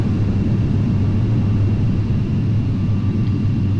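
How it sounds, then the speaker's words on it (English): Thrust reversers roar on a Boeing 737-800 landing in FSX, a dense, steady low rumble of jet engines holding loud and constant from start to finish. "you turn off the auto throttle and engage the reversers"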